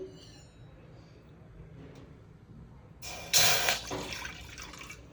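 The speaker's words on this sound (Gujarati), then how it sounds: "આપણે હવે એમાં પાણી નાખીશું" After a few soft drips, water splashes and gurgles into a pot for about a second, then trickles off and fades.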